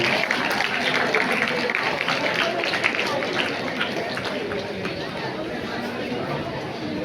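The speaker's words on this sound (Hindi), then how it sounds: "एक बार जोरदार तालियों के साथ मुमताज मैम का स्वागत करें" A seated crowd at a Hindi fortnight closing ceremony applauds steadily to welcome a guest onto the stage; dense, continuous clapping fills the hall, mixed with crowd chatter and some talking.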